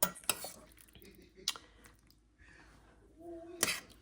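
A spoon scoops bean broth into a dish, giving a few close clinks of metal against crockery with soft liquid sounds in between, quiet and without talk.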